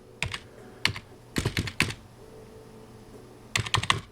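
Keys clatter on a computer keyboard in short, quick bursts of clicks with brief pauses between them, close and fairly quiet.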